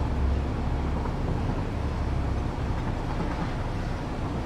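Continuous low rumble of a moving train in the factory-building video game Satisfactory, a steady, loud, broadband drone with no talk over it.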